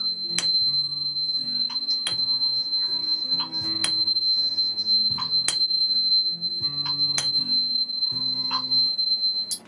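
Healing tuning forks tuned to C are struck again and again, each sharp strike blooming into a sustained, bell-like ringing tone that overlaps the next in a steady, close, shimmering wash.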